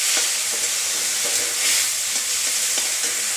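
Finely chopped tomatoes stirred into frying onion in a pan, with a steady close sizzle and scraping spoon strokes repeating through.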